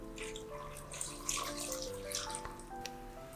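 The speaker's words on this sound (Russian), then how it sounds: "Заливаю картошку холодной водой, так чтобы вода полностью покрыла картофель." Cold water pours into a pot of cut potatoes in a home kitchen, a soft, fairly faint splashing and trickling with a few small knocks, heard alone.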